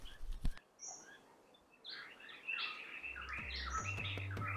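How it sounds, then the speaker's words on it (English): A common green magpie, a member of the magpie family, gives a few high, clear calls and chirps at moderate distance, set against quiet background hiss and a low rumble late on, with no voices. "One of the uncommon birds of the magpie family, also a rarer one, is the common green magpie."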